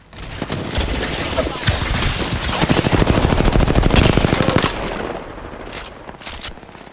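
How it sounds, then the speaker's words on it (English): Rapid automatic gunfire in the video game Apex Legends, loud and close, with dense bursts building into a sustained volley and then breaking into scattered shots. "The enemy are shooting at me."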